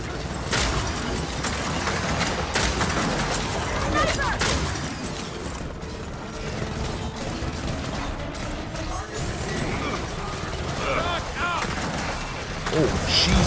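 Dense, continuous gunfire and explosions from the video game Gears of War 4, with sharp shots and booms layered throughout a chaotic firefight while players talk over the noise.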